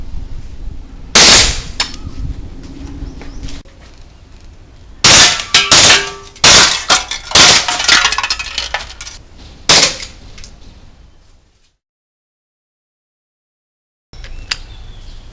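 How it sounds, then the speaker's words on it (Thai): A VFC G19 airsoft pistol rattles off several short full-auto bursts of sharp, clacking shots, loud and close, with brief pauses between strings and a stretch of silence near the end. "ไปดูกันครับว่า ตอนยิงออโต้เป็นไงบ้างครับ"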